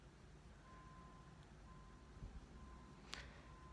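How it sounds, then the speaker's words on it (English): Several faint, evenly spaced electronic beeps from a reversing garbage truck somewhere nearby, steady and high, over a low rumbling background hum. "That beep is my garbage truck"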